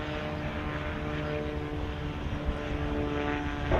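An Air France airliner on approach to land at Montego Bay, Jamaica, produces a steady, loud engine roar with a droning tonal hum that holds throughout and slowly builds toward the end.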